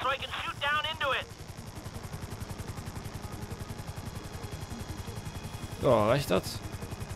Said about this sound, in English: Just hold the chopper here.